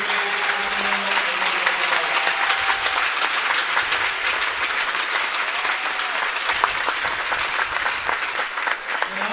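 Loud, steady crowd applause in a hockey arena as veterans are honored at a girls' high school game, dense clapping and cheering that fills the whole stretch without a break.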